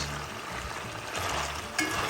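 Pork frying in oil in a pan, a steady close sizzle with faint stirring scrapes, brightening briefly near the end.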